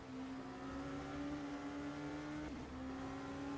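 Race cars in a video game endurance race at Spa hold a steady, sustained engine drone, with one car briefly shifting pitch near the end as traffic passes.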